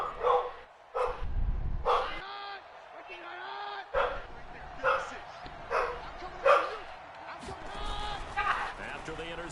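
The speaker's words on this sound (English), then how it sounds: "Goddamn dog." A dog barks in repeated sharp bursts spread across the clip, loud and close, with someone talking over a televised football game between the Ravens and Vikings in the background.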